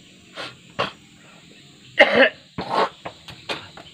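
A person coughs several times in short, rough bursts, one loud hacking cough in the middle, close to the listener with no speech.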